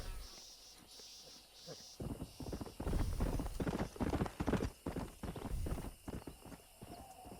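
Stallion hooves clip-clop in Red Dead Redemption, a quick rhythmic trot that grows louder after a quiet start, over a background of insect chirping.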